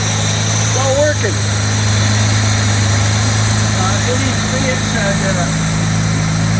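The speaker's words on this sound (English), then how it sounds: "I'm really happy with the running condition of that engine" A 1962 Jaguar E-Type with its original 3.8 engine runs at a steady idle, a loud, close, even low drone, while people talk over it.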